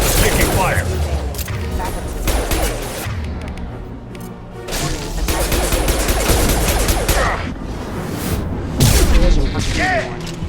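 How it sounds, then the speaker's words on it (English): Rapid gunfire and booming impacts from a Mass Effect 2 combat firefight, dense bursts of shots with heavy thuds continuing throughout, with voices speaking over the battle. "Taking fire."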